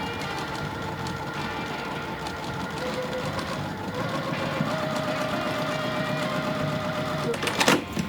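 A sewing machine stitches quilt strips in a fast, continuous mechanical whirring run, steady and moderately close, ending with a few clacks as it stops.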